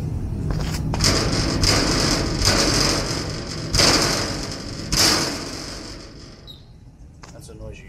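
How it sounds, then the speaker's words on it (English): Metal fender on a new 20-foot PJ trailer struck by hand, giving a series of loud clattering rattles and thuds with sharp metallic rings, the strongest two hits near the middle, all close up. "Fender making noise because I'm rattling the whole trailer."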